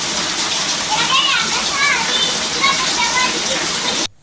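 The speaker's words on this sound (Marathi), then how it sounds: "पावसाने अगदी रुद्र रूप धारण केलेलं आहे" Heavy rain pours down in a dense, steady hiss, with children's voices and chatter heard faintly under the downpour.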